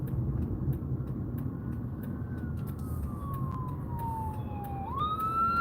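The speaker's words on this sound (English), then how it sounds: "Because there's an ambulance right behind us." An ambulance siren wails steadily at a distance, its pitch sliding slowly down then jumping up, heard over the low rumble of a moving vehicle.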